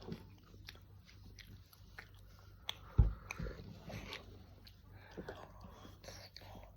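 A child bites into a Kinder milk chocolate bar and chews it: one sharp close crack, then soft, quiet chewing, with faint voices murmuring nearby.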